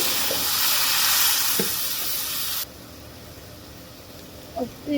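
Steady loud sizzle of onions and spices frying in a pan, hissing strongly before water is poured in and the sizzle drops to a quieter, softer hiss with a few faint clinks near the end.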